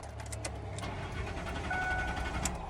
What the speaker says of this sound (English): She's a crank, no start.